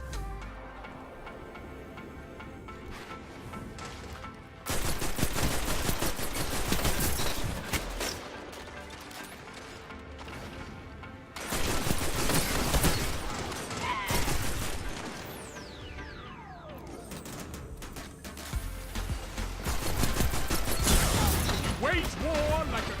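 Gahlran's Right Hand auto rifle in Destiny 2 Crucible fighting: long sustained bursts of rapid automatic fire in several waves, with game effects and a voice talking over the shots.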